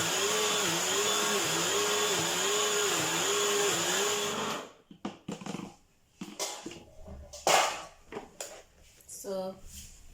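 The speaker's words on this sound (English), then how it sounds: "We are going to divide it into two and grind it again for the second time." An electric grinder whirs steadily as it grinds corn into homemade corn flour, then stops, leaving clattering, handling noises and talk.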